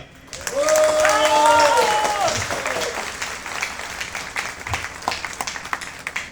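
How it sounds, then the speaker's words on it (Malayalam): Audience applause at a school reunion in a hall, a crowd clapping steadily for several seconds after a voice speaks briefly at the start, then thinning out toward the end. "ഇവിടെ എത്തിച്ചേർന്നിരിക്കുന്ന എല്ലാവരും നല്ലൊരു കൈയടി കൊടുത്തു"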